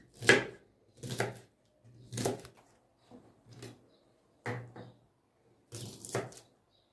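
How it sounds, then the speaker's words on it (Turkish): A knife chops garlic cloves on a cutting board in six separate bursts, each a quick cluster of sharp knocks, with short pauses between them and no talking. "iki diş de sarımsak doğrayacağım içine"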